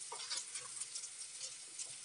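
Onions frying in a pan until light brown for poha make a faint, soft sizzle with scattered small crackles and pops close by.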